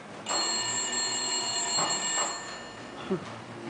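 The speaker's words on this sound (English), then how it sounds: "Ringing the police department." A telephone rings with a sustained electronic trill, fairly faint, in an otherwise quiet room.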